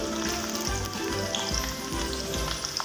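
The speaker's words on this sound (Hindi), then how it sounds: "इनको हम अच्छे से फ्राई कर लेंगे।" Sliced onions, about three medium ones, sizzle steadily in hot oil for a Balti gosht, a dense continuous frying crackle with a low bubbling underneath and no voices.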